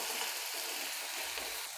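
Tomato sizzles in a hot pan as it is stirred for Marathi-style egg bhurji (anda bhurji), giving a steady, close frying crackle throughout with no talking.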